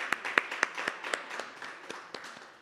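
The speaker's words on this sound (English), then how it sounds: "Let's give a big round of applause for our fabulous meal." A small luncheon audience at a Lenten lunch series gives a brief round of applause, a thin scattering of individual claps that quickly fades out.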